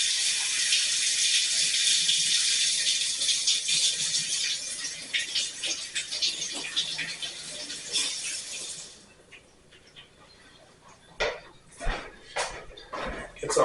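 Tap water runs steadily over a lobster in a kitchen sink, a loud hiss that stops partway, followed by a few wet clatters and handling sounds.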